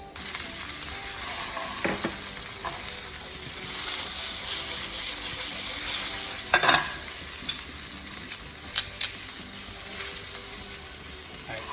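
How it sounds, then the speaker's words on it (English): Chicken piccata sears in a hot pan with a loud, steady sizzle and crackle, punctuated by a few brief sharper spatters, close and continuous with no talk. "It's gonna sear nice and beautifully right like that."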